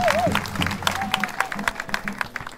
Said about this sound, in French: je voudrais qu'on fasse un applaudissement au président de